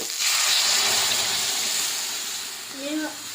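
Kalai lentils poured into a pan with fried shrimp set off a loud rushing hiss that gradually fades, with a short voice entering near the end.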